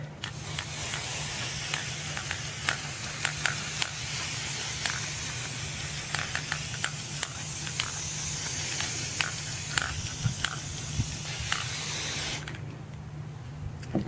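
A continuous hiss of spray paint from an aerosol can runs for several seconds with faint clicks, then cuts off abruptly near the end.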